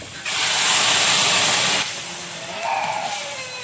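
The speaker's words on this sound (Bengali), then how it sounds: "এবারে জল দেবো, গরম জল।" Hot water hits a hot cooking pan with a loud, close burst of hissing steam that lasts about a second and a half, then drops to a softer sizzle with a brief bubbling swell.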